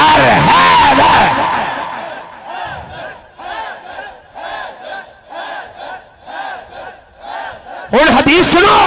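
At a devotional sermon gathering, a packed crowd chants a short two-syllable slogan in rhythmic unison, about a dozen evenly spaced shouts, loud and massed between louder bursts at the start and end.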